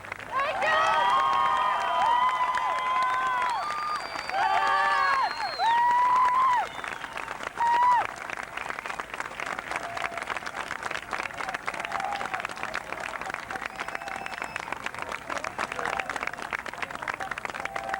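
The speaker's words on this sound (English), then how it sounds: "Let's have another fantastic applause for Professor Edward Said" A crowd at a Palestine rally in New York applauds after a speech. Raised cheering voices are heard first, then sustained, dense clapping continues at a steady level.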